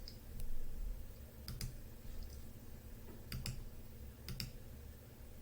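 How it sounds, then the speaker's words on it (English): Sparse computer mouse clicks, single and doubled, sound close but faint over a low background hum, with no talking. "Go ahead and click Next."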